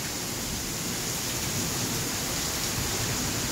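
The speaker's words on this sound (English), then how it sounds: "just enjoying the beauty of the rain as it keeps pouring harder and harder" Heavy rain pours steadily near a beach in Jamaica, making a dense, even hiss with no voices and no breaks.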